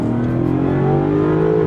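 A 2025 Land Rover Defender 90 with a supercharged 5.0-liter V8 revving hard, a loud, steady, rising engine roar heard from inside the vehicle, with the pitch climbing as it accelerates.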